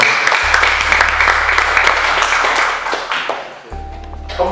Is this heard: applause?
yes